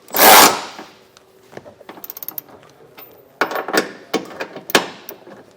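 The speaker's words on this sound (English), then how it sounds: "On this side, you can use a ratchet and a socket or a power tool." A loud burst of noise, then a run of quick metallic clicks and short ratcheting bursts as a socket wrench tightens a trailer hitch bolt on a 2024 Toyota RAV4, close up with no talking.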